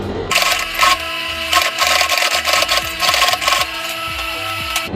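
Sewing machine stitching pieces of pink canvas together for a bucket hat, a loud, close mechanical chatter running in short bursts with brief pauses between runs.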